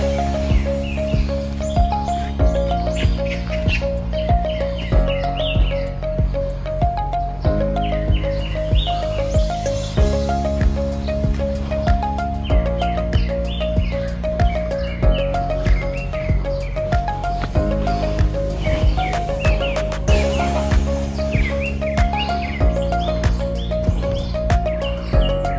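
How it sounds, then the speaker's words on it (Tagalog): Small birds chirp and tweet in a steady, repeating pattern in a mountain park over a constant low hum, continuing throughout. "Wala kang maririnig dito kundi ingin ng ibon."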